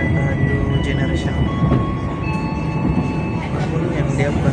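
Banyubiru economy class passenger train on the Solo to Semarang run, heard from inside the carriage as a loud continuous rumble with faint rail squeals and light clicking, steady throughout.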